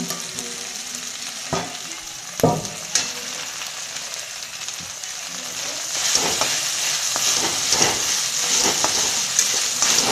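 Okra is stirred with masala in a frying pan: a few sharp clatters from the spoon at first, then a louder, steady sizzle that builds and continues to the end.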